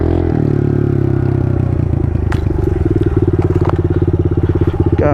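A pit bike's engine rumbles close and loud as the small dirt bike rides over rocks in the Hollywood Hills, its pulsing revs choppy over rough ground, with brief clatter and scrapes.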